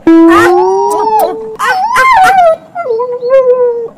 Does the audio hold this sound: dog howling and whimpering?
yes